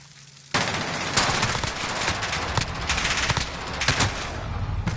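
Gunfire in Call of Duty on the Cargo map comes as rapid automatic bursts with sharp single cracks, loud and dense after a quiet opening, continuing in clusters.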